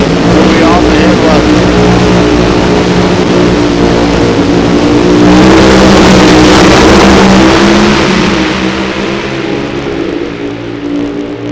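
A drag racing car engine revving at launch during a Saturday night race at Topeka, a loud sustained roar that swells and then fades as the car pulls away, with an announcer talking over it.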